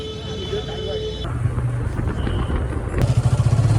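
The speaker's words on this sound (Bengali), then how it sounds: "তো বাইকটা স্টার্ট করি, তোমার যাওয়া যাক" A motorbike engine cranks and catches, rising into a close, loud, pulsing idle at the end, with a voice talking over the start.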